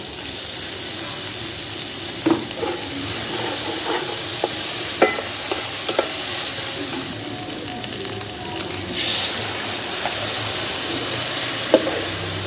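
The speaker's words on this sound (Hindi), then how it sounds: "मसाला अच्छे से भून लेंगे" Chicken karahi masala with a large tomato and chilli paste frying in a pan: a steady, close sizzle runs throughout, broken by scraping stirs and occasional clinks of the spoon. No one speaks.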